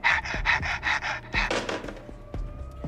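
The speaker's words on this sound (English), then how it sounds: "The babysitter answers it to heavy breathing." Heavy rhythmic breathing heard over a phone in a 1981 slasher comedy, a string of close, raspy pants in quick succession, then quieter breaths with faint clicks.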